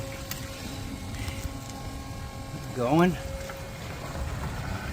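A pump emptying a full gray water tank runs as a steady, close mechanical drone, with a voice briefly saying a word over it.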